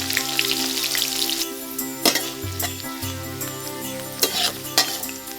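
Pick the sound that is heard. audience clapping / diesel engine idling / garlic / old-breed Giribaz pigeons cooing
garlic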